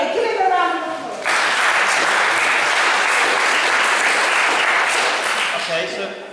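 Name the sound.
audience applause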